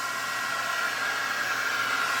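A 2800-watt hair dryer powered by a BLUETTI AC200L portable power station blows with a steady, loud, airy whir and a faint motor whine, running without pause and with no talking.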